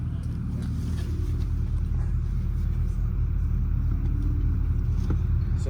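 Synthetic engine sound of a 2025 Dodge Charger Scat Pack EV electric car just after start-up, a steady deep rumbling drone that holds loud and even throughout, with no speech.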